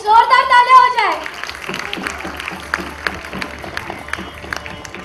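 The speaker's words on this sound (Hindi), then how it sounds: "गाइस जोरदार तालियां हो जाए।" An audience at a launch event for a women's ambassador program claps after a host's call, a dense steady patter of applause following a brief shout at the start.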